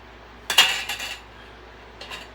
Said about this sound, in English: And then these 2 dinner plates and 2 forks.